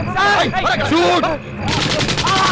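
Gunfire crackles through a tense movie scene, rapid loud shots that stop briefly and then resume, mixed in with raised voices.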